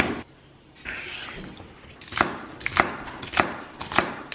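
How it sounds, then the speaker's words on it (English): Knife chopping carrots on a cutting board in a home kitchen, four sharp rhythmic chops spaced about half a second apart after a quieter opening, close and fairly loud. "You gonna chop up the carrots?"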